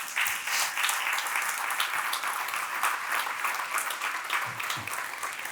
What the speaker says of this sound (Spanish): Dele un aplauso a Él.